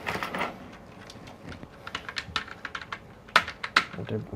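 Fingers tap out irregular bursts of keystrokes on a computer keyboard, close and crisp, with a few sharper clicks near the end and a voice talking softly underneath.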